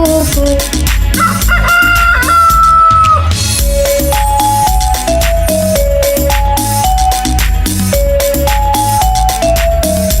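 A rooster's cock-a-doodle-doo, sung as "kukdoo koo", imitated in a loud, bouncy Hindi children's song, with drums and melody playing throughout.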